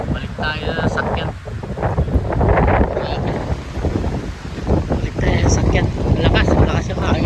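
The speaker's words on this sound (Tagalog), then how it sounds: "Malakas yung hangin." Gusty shoreline wind on a rainy morning of fishing, loud, steady and buffeting the microphone, swelling in surges while someone speaks over it.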